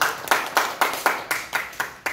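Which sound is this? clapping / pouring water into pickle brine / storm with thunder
clapping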